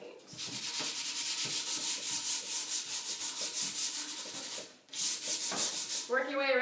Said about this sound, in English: going back over it with a nice fine sanding